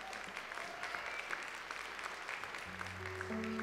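Audience applause at a media prize gala awards evening as a singer is welcomed on stage, a steady wash of clapping at moderate distance, with tonal stage sounds entering near the end.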